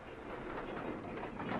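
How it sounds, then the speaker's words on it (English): A train rolls in around a bend during a rail strike story, a dense steady rumble with rattling wheels and clatter, close and loud throughout the short span without speech. "I think the train's coming."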